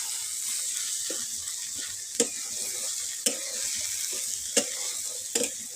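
Leftover rice stir-fried with softened tomatoes in a pan, a constant bright sizzle broken by several sharp spatula knocks against the pan, no talking.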